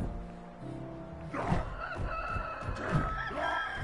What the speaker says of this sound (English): why are they like cooing like chickens?